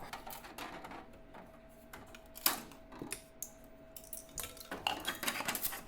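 PLA+ 3D-printed parts are popped off a printer's build plate, making a string of sharp plastic clicks, snaps and light clattering knocks of varying loudness, close and unaccompanied by talk.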